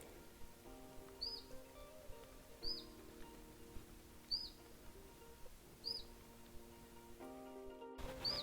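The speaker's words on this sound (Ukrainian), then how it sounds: "І чуєте пташку?" A single bird chirps a short, high call about every one and a half seconds, repeating four or five times over a quiet background with a faint tonal hum, on a forest trail on the Akamas peninsula, Cyprus.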